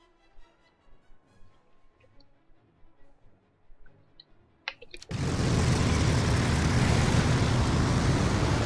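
A P-40 fighter plane engine in War Thunder starts up abruptly after a quiet stretch of faint ticking, then holds a loud, steady, broadband roar up close to the end.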